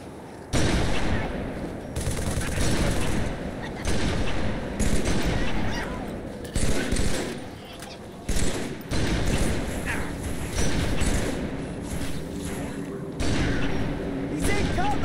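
Rapid bursts of game gunfire from Halo 3 combat ring out loud and near, repeated volleys with short pauses between them, mixed with shouting voices and battle effects throughout.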